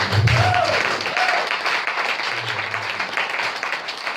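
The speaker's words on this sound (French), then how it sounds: "Est-ce qu'on peut applaudir pour ça?" Applause from a church congregation, loud at first and easing slightly, dense clapping with a few low vocal murmurs and a faint cheer mixed in.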